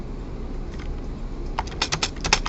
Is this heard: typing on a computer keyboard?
yes